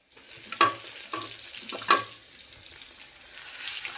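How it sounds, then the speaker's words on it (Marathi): Chili paste frying in hot oil for a buttermilk curry tempering with curry leaves and garlic, a steady broadband sizzle with a couple of sharp spatters and stirring knocks, close and moderately loud, no talking. "छान भाजून घेऊया तेलामध्ये."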